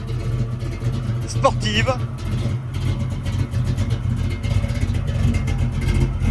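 A 1967 Ford Mustang Fastback's engine idles with a steady, deep rumble close by, while a person talks over it.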